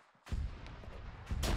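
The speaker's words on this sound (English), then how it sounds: "Kaw, I heard an explosion." Explosions in the Arma 3 military video game: two sharp, loud blasts, the first followed by a rumbling tail and the second arriving about a second later, with no voices.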